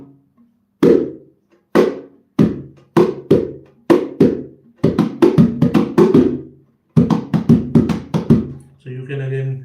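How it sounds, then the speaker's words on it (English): Rapid hand drumming on bongos, a steady run of sharp slaps and taps that speeds into quicker flurries, alternating between two pitched heads. "With both hands you can play on both the heads."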